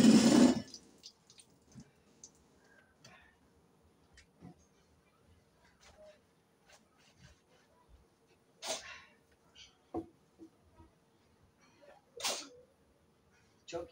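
A single sharp sneeze right at the start, then quiet household sounds with faint clicks and soft knocks.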